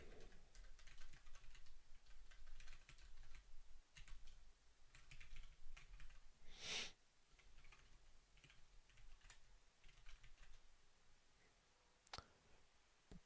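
Quiet, steady clicking of fingers typing on a computer keyboard, a continuous patter of keystrokes heard faintly with no talking.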